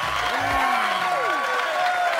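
Studio audience applause on a televised dance variety show: a dense, steady wash of clapping and crowd noise lasting the whole moment, with sliding musical tones sweeping over it.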